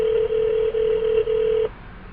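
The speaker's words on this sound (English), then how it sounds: "now it's ringing through to my work number" A phone call ringing out through the hands-free system of a Porsche Panamera 4S: a steady electronic ring tone with brief regular gaps, heard clearly inside the car for almost two seconds before it cuts off.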